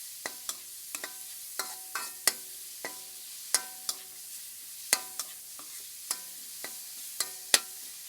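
Pork stir-frying in a pan over medium heat gives off a steady background sizzle, broken by repeated sharp clacks and scrapes of a utensil against the pan at an irregular rhythm. There is no talking.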